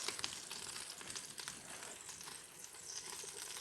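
Chicken thighs brown on a Ninja Foodi Sear'NSizzle griddle, producing a soft, steady crackling sizzle with small pops, faint and continuous, with no talk.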